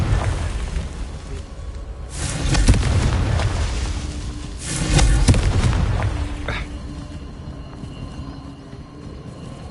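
Confringo blasting-spell explosions in the video game Hogwarts Legacy, two heavy booming blasts a few seconds apart over a constant roaring din, loud and close, with no talk.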